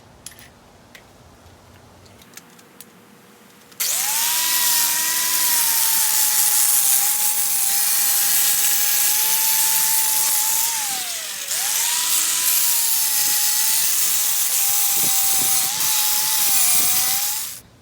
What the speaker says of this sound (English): Let's hit it with the flap disc.